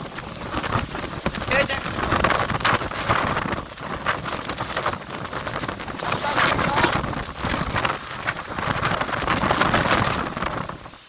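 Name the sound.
heavy rain and strong wind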